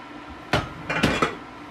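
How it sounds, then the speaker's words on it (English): A metal lid set down over a very hot pan grilling buns: a sharp metallic clank followed by a couple of quick rattling knocks as it settles, close and fairly loud in a quiet kitchen. "Get the pan very hot and put a lid over, like so."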